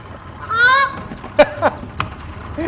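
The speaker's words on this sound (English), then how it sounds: "Now, listen to the sound the goose makes." A goose honks close by, a harsh drawn-out call followed by a few shorter, sharper honks.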